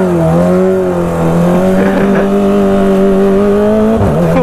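Engines rev loudly and close by in a sustained, droning roar that holds a steady pitch, then dips briefly near the end.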